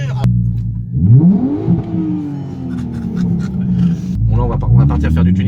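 A Nissan Skyline R32 engine idles and then revs hard, climbing and falling away, followed by a second shorter rev, close and loud, with a voice talking over it.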